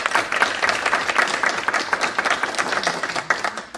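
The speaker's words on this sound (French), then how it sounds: "bravo Marie-Pierre, tu es 8e adjointe au maire, on peut t'applaudir" A town council meeting in Lèves breaks into applause for a newly elected deputy mayor, a dense, lively burst of many hands clapping at close range, sustained evenly for several seconds without speech.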